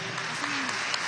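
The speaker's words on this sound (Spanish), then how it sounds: "Vamos a recibirla con un aplauso, por favor" Audience at a health congress in a military hall applauds to receive a student spokesperson, a dense continuous burst of clapping throughout the brief moment with a faint voice underneath.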